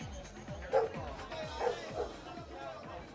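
A dog barks in rapid repeated yips amid the chatter and crowd murmur of a live TV studio show, with people talking throughout.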